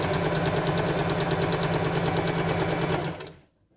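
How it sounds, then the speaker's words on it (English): A sewing machine runs steadily at close range, stitching a straight seam forward and back with a fast, even mechanical whir, then stops abruptly near the end. "A few stitches forward, and then a few stitches backwards"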